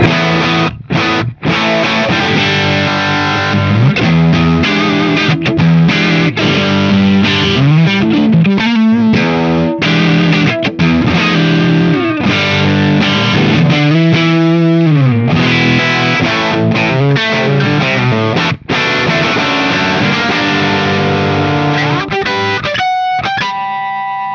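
Electric guitar played through a cranked Fender Super-Sonic 22 amp, loud, continuous and distorted with a chorus-like shimmer, with sustained chords and bending lead lines running without pause and no talking.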